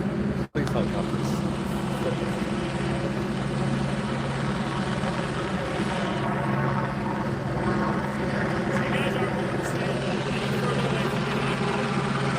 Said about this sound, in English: This police helicopter.